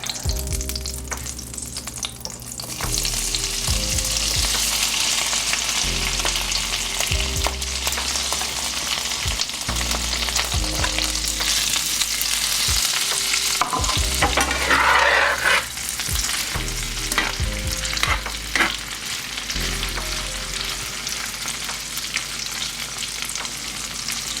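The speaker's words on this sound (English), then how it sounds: "I'm going to add our potatoes to start browning." Potatoes browning in beef tallow and butter in a pan for corned beef hash, giving a steady, loud sizzle throughout with intermittent stirring and scraping knocks, no talking.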